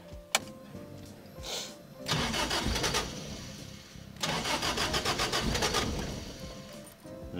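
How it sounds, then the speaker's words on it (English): Starter of a 1975 Toyota Corolla KE35 cranking the engine in two long, loud bursts of rapid, even churning, with a short pause between, as the car fails to fire. "It doesn't want to start, does it?"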